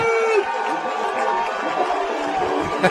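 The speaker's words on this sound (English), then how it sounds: "The crowd is so loud below us." A loud Yellow Jacket football crowd roars in the stands, a dense wash of cheering and chatter filling the air steadily throughout, with a commentator's voice briefly heard.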